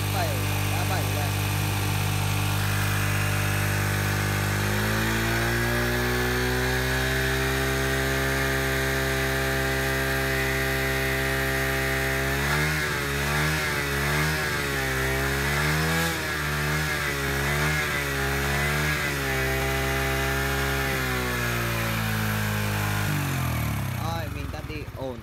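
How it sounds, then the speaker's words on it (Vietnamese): Motorbike engine idling steadily and then revving repeatedly as the throttle is opened and eased off, loud and close, with the pitch rising and falling before settling back to idle. "bây giờ là mình sẽ bật ga như kiểu mình đang đi thì nó sẽ như thế nào anh em nhé"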